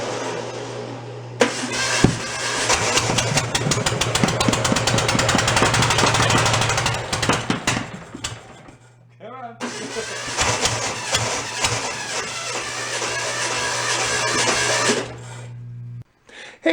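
A late-1960s Volkswagen bus engine, pulled from a barn and worn, runs loud and close with a steady low hum and busy rattling clatter, dipping briefly midway before revving again, then cutting off near the end.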